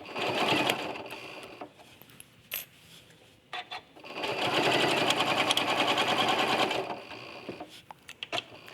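Binding is machine-stitched onto a quilt from the back, the sewing machine whirring in a short burst, then a long even run of several seconds, with a few brief stitch bursts and pauses between.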